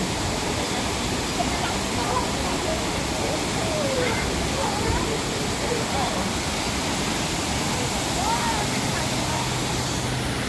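Water rushes continuously in Hong Kong Park, a steady, dense roar like a waterfall or fountain, with faint voices mixed in underneath.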